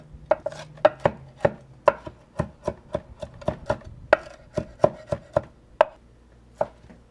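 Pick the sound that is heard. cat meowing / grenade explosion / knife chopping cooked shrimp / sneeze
knife chopping cooked shrimp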